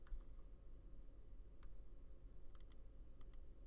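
Faint, sparse keystrokes on a computer keyboard: a few isolated clicks, then a short cluster of quick taps, all over a low steady hum.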